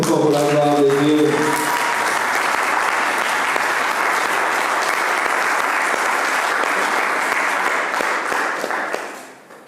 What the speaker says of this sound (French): Est-ce que nous pouvons acclamer très fort pour la gloire de Dieu?